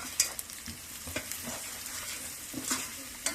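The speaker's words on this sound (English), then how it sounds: "and then stir it." Carrot curry with green and red chilies sizzles steadily in a frying pan as a spoon stirs and scrapes through it, close up and without speech.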